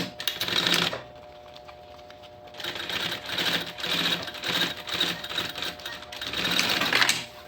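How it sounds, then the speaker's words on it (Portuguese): A sewing machine topstitches a seam along the edge of a backpack pocket, running in a short close burst, pausing, then buzzing in several quick back-to-back runs that swell and ease in speed. "E vou rebater uma costura aqui na bordinha"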